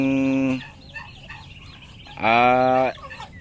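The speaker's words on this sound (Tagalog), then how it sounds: "Ito yung gusto ng mga alaga natin na sisiw ngayon na binitawan natin na 4 na inahin" Hens and chicks roaming outdoors: two loud, close clucking calls from a hen separated by a quiet pause, with faint background chatter between them.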